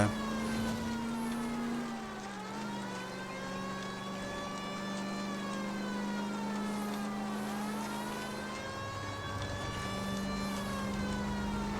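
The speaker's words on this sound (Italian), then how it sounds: "Ma ora ce l'ho la sirena però," A police car siren in the video game L.A. Noire wails on without a break, its pitch sweeping slowly up and down at a steady, fairly loud level, and no one speaks over it.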